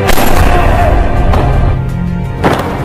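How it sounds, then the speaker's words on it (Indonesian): A gunshot from an action film about an agent rises out of a dense, loud mix, with a booming burst at the start and two sharper cracks following near the middle and end. No voices are heard. "Tembakan tersebut meleset"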